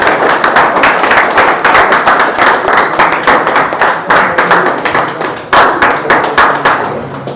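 Loud, dense clapping from an audience at a celebration event as ambassadors are called up on stage, a continuous rapid patter of hands with brief surges and dips, close and dominant with no talk over it.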